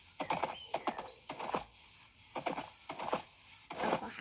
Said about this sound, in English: A horse is walking like this.